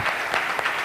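An audience at a business awards event bursts into applause, a brief, loud, dense burst of clapping with no voices over it.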